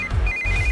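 A phone ringtone trills in quick repeated pulses, loud and close, over a low rumbling background with no talking.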